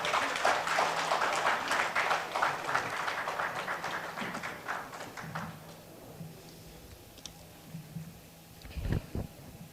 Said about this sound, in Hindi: तालियों की गड़गड़ाहट चलनी चाहिए